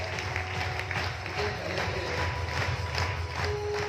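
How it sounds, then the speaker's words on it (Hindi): A crowd claps steadily to welcome a guest at an event in Aurangabad, a continuous wash of applause heard alongside a voice over the room. "एक बार जोरदार तालियों से हम इनका स्वागत कर दीजिए।"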